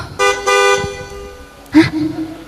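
A car horn sound effect honks twice in quick succession, loud and close, followed after a pause by a short voice-like cry over a faint low engine rumble.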